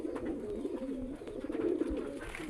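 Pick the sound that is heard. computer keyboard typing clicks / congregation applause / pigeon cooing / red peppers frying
pigeon cooing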